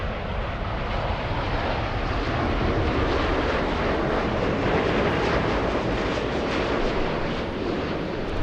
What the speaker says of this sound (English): we got a Dreamliner coming in. Looks like a United.